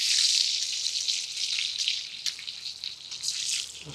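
A ribeye steak sizzling in a hot cast iron pan, a bright, steady hissing crackle that swells and eases, close and alone.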